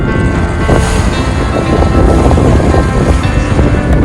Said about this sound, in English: Really windy and really rough.